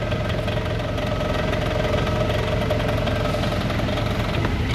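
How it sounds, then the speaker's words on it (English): Sewerquip Ranger trailer jetter motor running steadily and loudly up close, a continuous mechanical engine drone with a knocking throb and no talk over it. "So the higher the revs on the motor, the faster the drum's going to spin."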